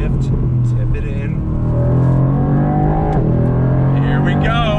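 A 2020 Mercedes-Benz AMG GT R on a race track, its engine loud and close with shifting pitch as it brakes and downshifts into a corner, with a voice talking over it.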